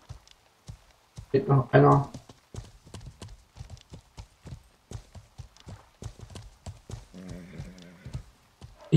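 Horse hooves clip-clopping and a horse neighing in the medieval game Life is Feudal, with a sharp burst of whinny early and another later, hoof beats tapping intermittently while someone talks over it.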